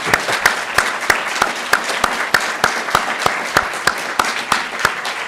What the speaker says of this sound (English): I'd like to have a round of applause for all of this group.